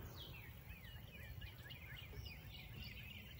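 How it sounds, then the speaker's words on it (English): Faint, distant birds sing and chirp in the background by a pond in the evening, over a steady low outdoor hum, with no one talking. "you should be able to hear the birds in the background"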